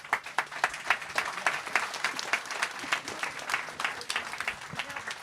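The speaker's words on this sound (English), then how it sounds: "if you would give the authors a round of applause" An audience at a book signing applauds the authors, a continuous round of close, bright hand clapping with a faint murmur of voices beneath.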